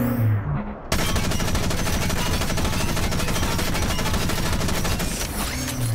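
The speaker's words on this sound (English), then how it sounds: "Destroy the enemy's arms, the machine gun?" After a short pause, machine-gun fire from a retro mech video game erupts into a loud, dense, unbroken stream of rapid shots that continues to the end.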